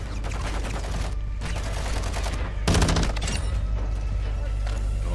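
Rapid gunfire from the video game Call of Duty Warzone, dense bursts of automatic shots rattling continuously with a heavier volley partway through, loud and close.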